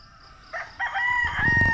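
A rooster crows nearby, one loud, drawn-out cock-a-doodle-doo rising in segments and trailing into clucking, with no talk over it.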